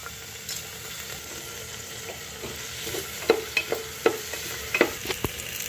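Masoor dal (red lentils) fry in a pan with green chilli and bay leaf, a soft steady sizzle broken in the second half by several sharp scraping stirs of the spoon.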